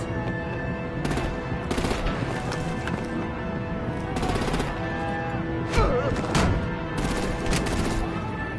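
Artillery gunfire aimed at vehicles in the Telltale Batman video game rattles in repeated bursts over a dense, busy action mix, with sharp cracks and a heavy thump near the middle.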